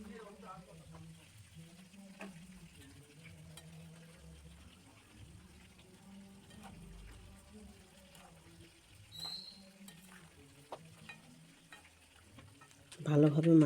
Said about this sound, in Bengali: ঝোল ফুটে গেছে, দিয়ে দেবো মাছগুলো।